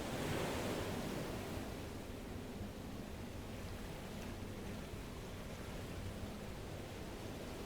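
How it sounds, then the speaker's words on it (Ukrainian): Steady rushing sea waves in the video game FAR: Changing Tides, a continuous broadband wash with wind mixed in, holding an even level throughout with no voices. "Хвилі вроді як посилюються."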